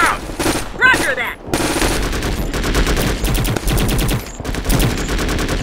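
Enemy gunfire in a war video game: loud, sustained automatic bursts with rapid, evenly spaced shots, close and dense throughout, mixed with shouted voices at the start.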